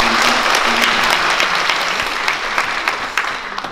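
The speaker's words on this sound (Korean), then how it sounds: "다시 한번 우리 회장님 큰 박수 부탁드리겠습니다" Audience applause at a Korean art song society anniversary concert: a full, dense burst of clapping from a large crowd, loud and steady before easing slightly toward the end.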